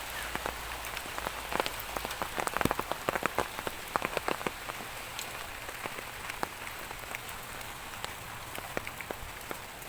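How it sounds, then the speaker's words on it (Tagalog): Steady rain patters on surfaces, with a dense wash of close droplet taps and scattered sharper drips throughout, no voices. "Maulan."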